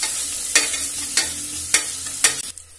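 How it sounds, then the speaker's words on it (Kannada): Chopped onion fries with mustard seeds and cumin in hot oil, a loud steady sizzle broken by four evenly spaced scraping strokes of a stirring spoon. "ಚೆನ್ನಾಗಿ ಫ್ರೈ ಮಾಡ್ಕೊಳ್ಳೋಣ ಇದನ್ನ."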